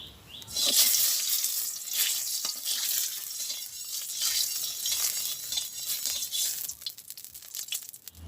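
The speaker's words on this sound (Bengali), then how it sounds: "কড়াই গরম হয়ে গেছে, তেল দিয়ে দিচ্ছি।" Oil heating and sizzling in a hot wok in a village kitchen before small puti fish go in, a bright continuous crackle with occasional stirring scrapes, no talk.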